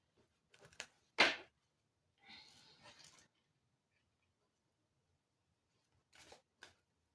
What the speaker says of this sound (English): I'm just going to shuffle the cards again